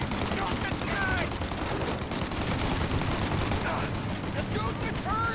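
Gunfire from the Mafia Definitive Edition video game, with a turret in the shootout, rattles in dense bursts and a near-continuous volley of shots, while voices shout over the fighting.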